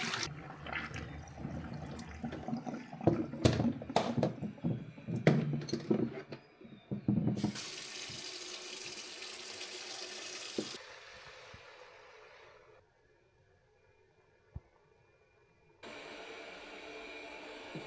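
Tap water runs into the water tank of a robot vacuum at home, a steady broadband rush of filling that stops abruptly, followed by quiet and then another steady run of water; earlier clatter of handling precedes the flow.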